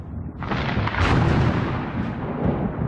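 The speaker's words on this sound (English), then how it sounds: "During thunderstorms, electric charges build up, creating lightning bolts that reach tens of thousands of degrees." Thunder from a thunderstorm rolls in as a loud, deep, sustained rumble with a sharper crack near the middle, continuing for a few seconds with no voices.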